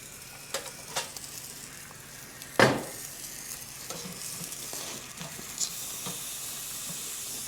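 Meat sizzles steadily on a Skotti compact camp grill just after being flipped, a soft continuous hiss with a sharp louder burst near the start and a few small pops and clicks, heard alone without talk.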